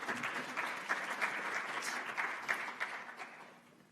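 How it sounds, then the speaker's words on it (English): Applause from a conference audience at an industrial efficiency event, moderately distant and fairly faint, with scattered distinct claps standing out before the clapping tapers off at the end. "So please give her a round of applause."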